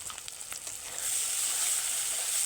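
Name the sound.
Kashmiri chilli powder and cumin powder frying while stirred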